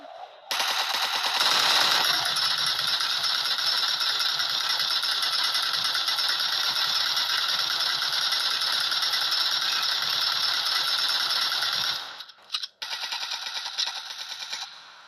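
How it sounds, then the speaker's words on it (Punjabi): A machine gun in a video game fires into the air in one long unbroken burst of roughly eleven seconds. The rattle is loud and close, then cuts out and a few shorter bursts follow. "ਵੇਖਿਓ ਜ਼ਰਾ, ਹਵਾਈ ਫਾਇਰਿੰਗ ਕਰ ਲਈਏ ਫਿਰ ਕੁਝ ਲਾਉਂਦੇ ਆ।"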